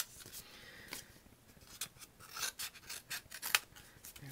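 Scissors snip and rasp through thin paper die-cut trimmings, close and quiet, in a series of short irregular cuts with a few sharper snips.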